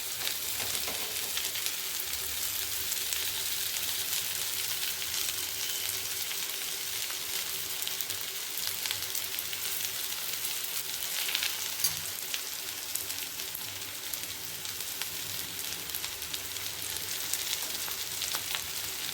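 Raw prawns fry in a pan with oil, chopped onion and ginger, giving a steady, even sizzle that holds close and fairly loud for the whole stretch with no talking.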